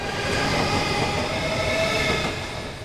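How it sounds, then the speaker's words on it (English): A train departs from a station platform with a loud, steady rumble of wheels and carriages and faint squeals from the rails, then fades slightly as it pulls away. "The E-train on track 5 has now departed."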